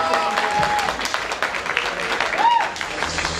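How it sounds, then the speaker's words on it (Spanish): Crowd applauding a drag show contestant at a horror-week drag diva competition, sustained clapping and crowd noise throughout with voices and a brief whistle-like tone mixed in. "Así que ahora aplausos y reitero, solamente aplausos"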